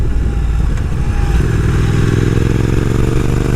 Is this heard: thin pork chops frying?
no